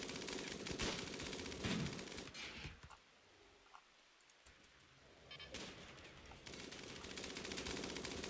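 Bursts of gunfire from a RimWorld firefight, heavy rapid volleys at the start and end with a quieter lull in the middle, played loud and without any talk.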